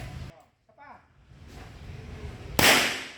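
A firecracker bursts outdoors with one sharp loud crack near the end, after quieter background noise and faint voices.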